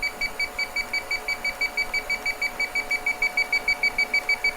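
An Inficon D-Tek Stratus refrigerant leak detector sounds near a leaking coil on a Daikin mini-split. It gives a steady train of short, evenly spaced electronic beeps, about four a second, clear and alone.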